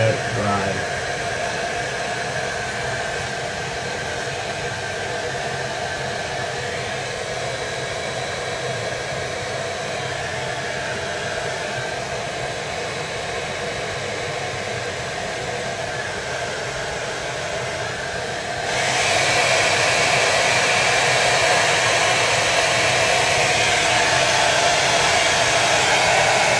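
Hair dryer blowing on freshly painted parts of a Zvezda German leFH-18 howitzer scale model, a steady close whooshing roar throughout that grows louder and brighter near the end, with a brief voice at the start.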